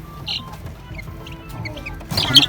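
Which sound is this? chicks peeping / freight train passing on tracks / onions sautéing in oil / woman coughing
chicks peeping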